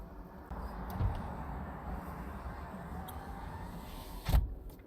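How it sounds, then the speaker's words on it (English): Street traffic passing nearby, a steady broadband hiss of road noise with a couple of louder thumps or door-like knocks standing out at moderate distance. "Traffic noise now."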